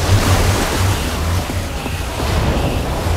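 Water rushes and gushes out in Minecraft Story Mode after a lever is pulled, a loud, steady roaring wash like surf that carries on for the whole moment.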